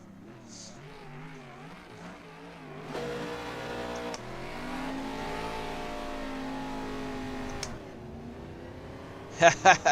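Video-game racing car with its engine revving hard while spinning its tyres to build heat, a sustained loud harmonic drone rising and holding, with someone talking over it and a few sharp knocks near the end.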